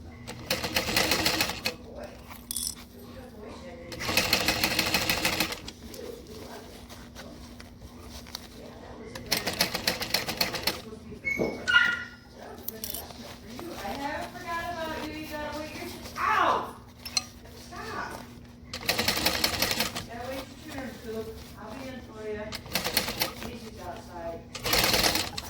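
Sewing machine stitching a backpack, running in repeated loud bursts separated by pauses, with talk and light clinking in between and a steady low hum underneath.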